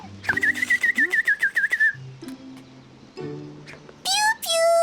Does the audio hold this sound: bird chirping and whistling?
yes